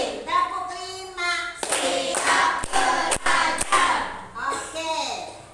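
Children in a classroom perform a five-clap cheer, a run of crisp unison claps with distinct accents, set between voices chanting before and after.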